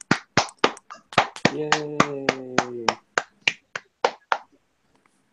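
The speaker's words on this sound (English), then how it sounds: "Round of applause for him." A small studio group on a motorsports show claps for a driver in sparse, rhythmic single claps or snaps, about fifteen sharp hits spaced evenly, with a brief cheering voice midway before the claps stop.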